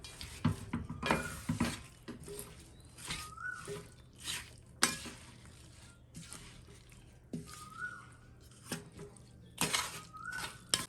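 Salted mango pickle being mixed by hand in a vessel, a series of wet squelching stirs and sharp scrapes and clinks against the container in an irregular rhythm, close and fairly loud.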